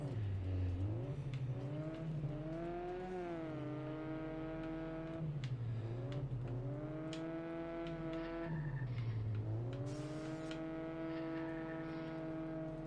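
A Drift Tech car drifts in a racing video game, its engine note rising and dipping in long repeated sweeps, with tire noise beneath the steady engine drone.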